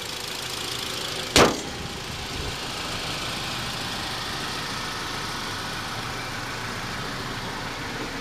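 A car's 2.4 liter four-cylinder engine idles with a steady, even low rumble, broken early on by a single sharp click.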